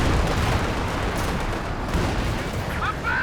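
A Panzer IV tank is destroyed in the WWII strategy game Company of Heroes 2, a dense, rumbling wall of blasts and gunfire that runs continuously with a voice talking underneath.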